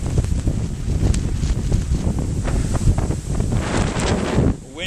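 Strong Hurricane Sandy wind roars and buffets the microphone continuously, a loud, gusty rush with rustling and flapping, easing slightly near the end.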